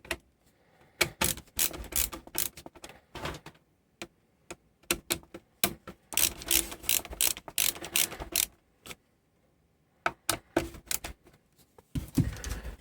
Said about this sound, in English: I'm just screwing 4 screws into the power supply.